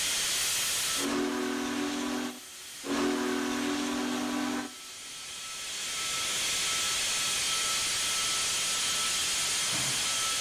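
Union Pacific Big Boy steam locomotive in Train Simulator 2021 sounds two loud, deep whistle blasts over a steady roaring hiss of steam, which carries on alone afterward.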